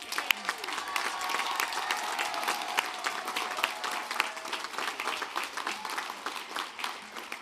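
Sustained applause from a commencement audience honoring graduates, a dense steady patter of many hands clapping continuously throughout, moderately loud and unbroken.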